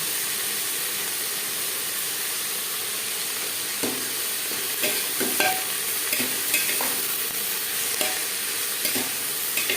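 Onions fry with turmeric and salt in a pan for a Bihari-style potato mutton curry, a loud, constant sizzle with scraping stirs and spatula taps over it, close and without talk.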